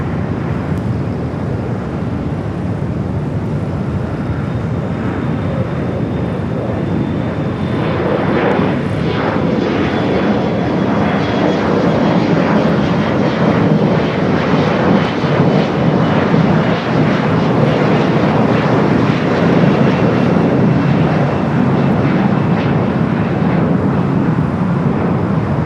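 Alaska Horizon Embraer E-Jet taking off at LAX, a loud, steady jet roar that swells slightly and stays strong throughout, heard up close with no speech.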